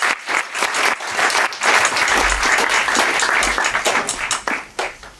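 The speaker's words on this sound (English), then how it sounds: "massive round of applause for Clive De Carle" Conference audience breaks into sustained applause, dense clapping from many hands at moderate distance, swelling and then thinning out toward the end.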